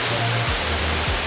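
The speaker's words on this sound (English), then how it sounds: "I'm going to take you to the beautiful waterfall of" Kuang Si waterfall in Laos roars as a steady, dense rush of falling water, loud and close, with a low rumbling hum running underneath and no voices.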